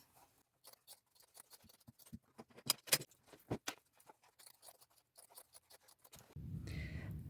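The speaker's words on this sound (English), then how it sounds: "I'm just going to cut along that line and cut the bottom part off." Scissors snip through a denim jean skirt in a string of quiet, close, uneven clicks and crunches, ending with a soft rustle of fabric.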